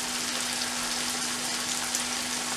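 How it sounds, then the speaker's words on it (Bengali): Chopped onion and ground spices frying in a pan for a mutton leg roast, giving a steady, even sizzle throughout, close and fairly loud with no talking. "পেঁয়াজ কুচিটা দিয়ে ভালোভাবে ভেজে নিতে হবে"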